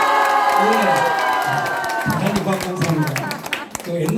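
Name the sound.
audience applause and cheering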